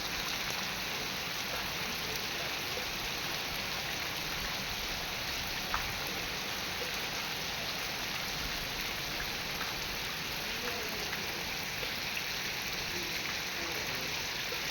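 Steady heavy rain pours down on vegetable farmland without pause, a dense, even hiss of drops hitting surfaces, with no voices.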